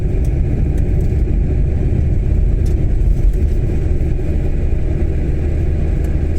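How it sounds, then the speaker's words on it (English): A bus passes on a street in Stirling, Scotland, producing a loud, steady, low engine rumble that fills the scene for several seconds without any talking. "There's the bus."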